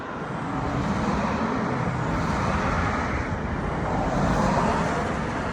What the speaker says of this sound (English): I've got it on standard now, so you should be able to hear the cars